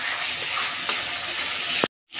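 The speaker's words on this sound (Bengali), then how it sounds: "তো এখন মশলাটা সুন্দর করে কষিয়ে নিচ্ছি" Spice paste of salt, turmeric and coriander powder frying in a pan, giving a steady close hissing sizzle with a small scrape near the end before a brief silence.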